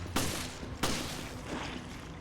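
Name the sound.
handgun gunfire in video game Resident Evil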